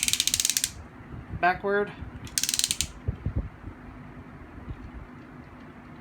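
Ratchet joint in the leg of a Power of the Primes Abominus toy clicking as it is moved, with a quick run of close mechanical clicks followed by softer creaky ratcheting and handling noise, while a voice briefly speaks.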